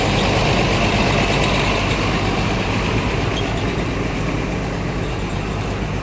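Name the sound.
ALS bus engine running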